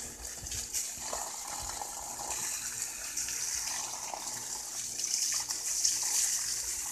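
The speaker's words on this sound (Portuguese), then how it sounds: "Deixa molhar bem pra água infiltrar aí no pé da bananeira" Water running steadily from a hose onto banana plants on a rural farm, a soft continuous splashing and trickling, fairly close, with no talk.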